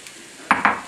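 Onions and red and green peppers hit a hot pan of olive oil, bursting into a loud, close sizzle in two quick surges, with a faint clink of utensils.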